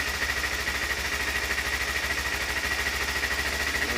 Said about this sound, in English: And as the bike warms up, you can slowly take the choke off.